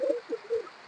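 Rampuri running-pair pigeons give a few soft, short coos close by, faint and alone.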